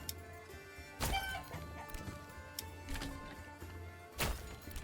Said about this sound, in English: These are going to be chickens.